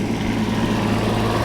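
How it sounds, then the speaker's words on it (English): A small engine drones steadily and loudly throughout, a continuous buzzing hum like a lawn mower running close by. "Sorry to pass a lawnmower guy here."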